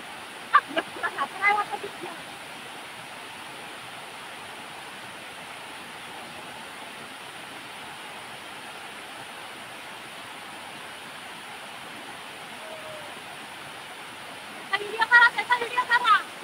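Water pours over the Hardakhale Dam waterfall as a steady, soft rushing hiss that runs unbroken throughout. Brief voices break in near the start and again at the end.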